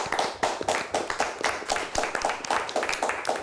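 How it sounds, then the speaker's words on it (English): A small audience claps for a quiz team at a televised high school quiz competition, giving brisk, close, individually distinct claps in a steady patter throughout. "Let's give them a nice round of applause."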